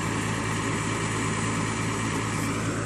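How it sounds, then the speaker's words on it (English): A farm tractor's engine idles steadily nearby with a constant low rumble and even hum, running alone without any talk over it. "and that's tractor."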